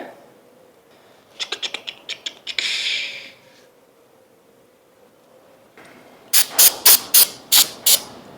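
Carb cleaner sprays from an aerosol can in short hissing bursts, a quick series of spurts followed later by a louder run of sharp, evenly spaced blasts close by.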